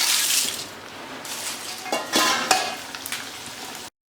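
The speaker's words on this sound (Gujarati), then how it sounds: "આવી જ રીતે બધા પૌવાને તળી લેવાના છે" Loud sizzling and bubbling of poha (flattened rice) frying in hot oil for chevda, with bursts of crackle and a brief stir before it cuts off.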